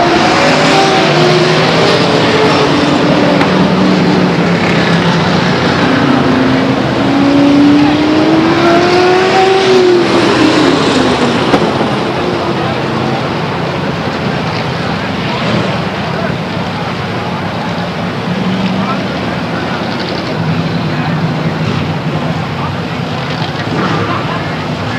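Race cars circling under caution at Stockton 99 Speedway in 1999: a dense, loud roar of engines rising and sweeping past, with a brief passing pitch glide, over continuous crowd and track noise that eases slightly later.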